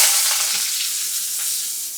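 Whole cinnamon and cloves crackle and sizzle steadily in hot oil in a home kitchen while night dinner is cooked, a close, continuous bright frying hiss with no talk.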